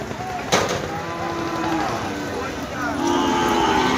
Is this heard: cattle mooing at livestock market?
yes